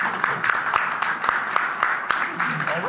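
A studio audience applauds a guest on a French talk show recorded in front of the public. The clapping is dense and fairly close, with sharp individual claps and murmuring voices underneath.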